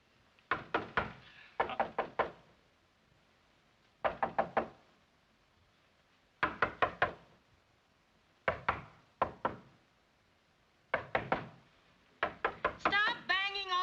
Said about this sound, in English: Stop banging on that door.